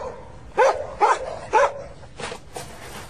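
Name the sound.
border collie dog barking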